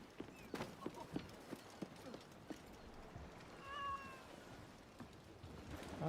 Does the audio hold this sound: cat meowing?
yes